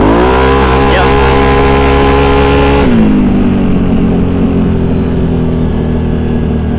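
Built Can-Am Outlander ATV engine screams at full throttle in low gear, a loud, high-pitched rev that drops sharply partway through into a lower, steady drone.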